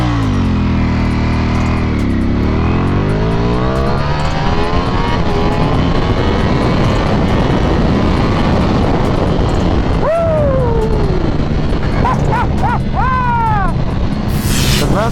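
Ducati Panigale V4 SP2 motorcycle accelerating in traffic, a loud continuous engine note with rising and falling harmonics as it revs, plus brief sharper revs near the end.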